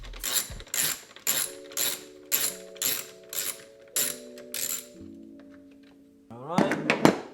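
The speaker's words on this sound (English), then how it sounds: "first step, we remove this 10mm right here that is holding the coolant tank" A ratchet works loose the 10mm bolt holding the coolant tank on an R56 Mini Cooper S, giving about nine quick, close bursts of dense clicking at a steady rhythm, then a short pause and a final louder flurry of clicks.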